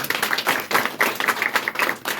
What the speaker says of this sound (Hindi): आदरणीय समझ के लिए जोरदार ताली लगा।